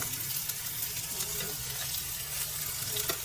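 Onion, carrots and beans frying in a pan for homemade Maggi, a steady close sizzle with a faint crackle throughout and no voices.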